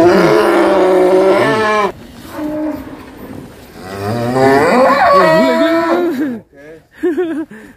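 A black cow, a contest-type bull, moos loudly and repeatedly at close range, long drawn-out bellows with grunting breaks between them, fading to shorter calls at the end.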